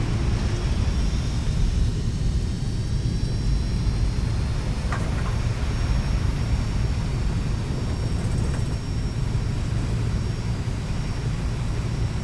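FlightFactor 757 on landing rollout in X-Plane 12, with thrust reversers deployed: a steady, loud broadband engine roar holding constant throughout, with no talk over it.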